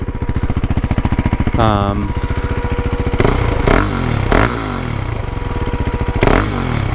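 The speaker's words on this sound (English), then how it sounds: "I think it sounds sick with that little pre-muffler delete." A KTM Duke 390 with a pre-muffler delete idles with a raspy, throaty rumble and slight valve noise, punctuated by several sharp throttle blips and revs, close and loud.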